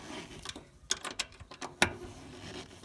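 A ratchet tightening the fuel pump cover bolts on a 2005-09 Subaru Legacy GT, quick close clicking bursts and short pawl rattles in uneven bursts, faint and without speech.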